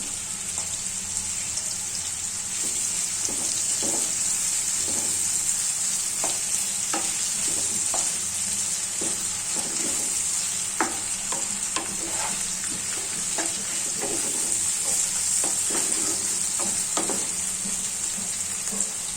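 Garlic and ginger paste fry in a pan while being stirred, giving a steady soft sizzle broken by irregular scraping clicks of the utensil, fairly quiet and continuous with no talking.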